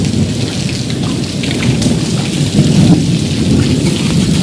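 Sudden heavy rain pours down steadily in a dense, loud roar, with a low rumble beneath.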